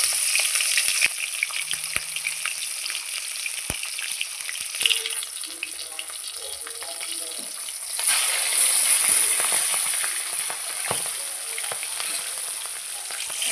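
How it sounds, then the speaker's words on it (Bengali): A rohu fish head rubbed with salt and turmeric fries in hot oil in a home kitchen, giving a steady soft sizzle with occasional clicks and stirring knocks and a brighter hiss swelling partway through. "আমি এখন লবণ হলুদ মেখে রাখা মাছের মাথাটা গরম তেলে ছেড়ে দিচ্ছি"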